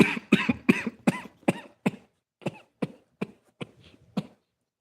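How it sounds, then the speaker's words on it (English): Repeated coughing fit with about a dozen sharp, close bursts, dense at first then spacing out and fading, set off by cayenne pepper in Blue Lotus tea; no talking. "I almost coughed because I was getting ready to say something"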